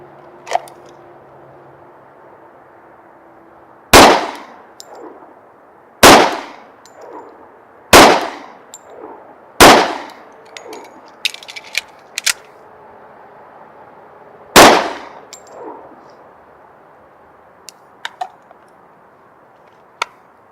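Six or so loud, sharp gunshots crack out alone at a shooting range during a slow-fire pistol drill, spaced a couple of seconds apart, with a few fainter distant shots from other lanes scattered in between.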